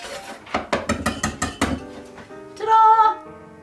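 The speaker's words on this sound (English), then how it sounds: "Whisk it together so it's completely combined." A whisk beats cocoa powder mixture in a bowl, making a rapid run of close metallic clinks and taps against the bowl, then a brief ringing tone as it settles; no voices.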